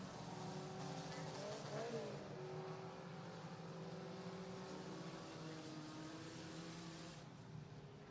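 USAC/CRA sprint cars race at Santa Maria Speedway, a continuous engine roar at a distance with a pitch swell as cars pass, then a gradual fade.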